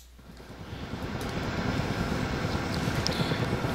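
A helicopter flies in modded Minecraft, a steady droning engine and rotor hum that builds gradually from a softer start into a constant, fairly loud roar with no talk over it.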